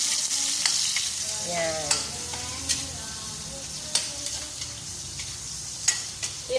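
Garlic and ginger sautéing in a pan for tinola chicken wings, a steady sizzle with scattered stirring clicks and scrapes; a voice speaks briefly.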